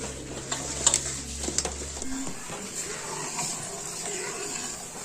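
Wheat flour dry-roasting in a pan, scraped and stirred by hand, giving a steady soft scratching and faint sizzle with a few louder clinks early on.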